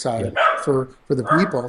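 A pet dog barks in a few sharp, close bursts that overlap someone talking.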